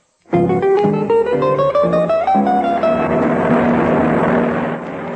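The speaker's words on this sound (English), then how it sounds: "As Fred flew the plane westward toward his next stop" Airplane engine sound effect from a 1948 old-time radio drama, a loud droning motor that swells, climbs in pitch, then settles into a sustained steady roar, heard alone without voices.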